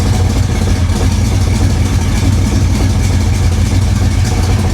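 A flooded 1966 Impala engine idles loudly and steadily up close, with a continuous rough drone.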